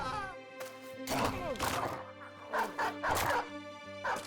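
Dogs in a video game barking and yipping in repeated bursts over steady in-game background sound.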